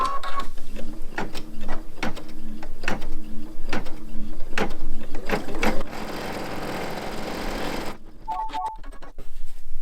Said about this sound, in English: And then the next step of the design will be the placement line for the bow.